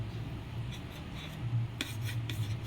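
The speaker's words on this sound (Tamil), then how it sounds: "நான் வந்து சின்னதாக க்யூபாக கட் பண்ணுறேன்." A knife slicing soft homemade paneer into small cubes on a board, faint repeated rubbing strokes and a few light taps close by, quiet with no voices.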